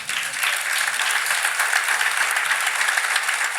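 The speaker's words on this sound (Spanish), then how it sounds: "denle un aplauso a estas mujeres" Loud, sustained applause from a church congregation honouring women of the ministry team as they stand, a continuous dense clatter of many hands with no talking over it.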